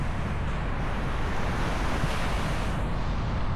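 Ocean waves wash onto a beach in Montevideo, Uruguay, a steady, loud surf roar with strong wind buffeting the microphone and no voices.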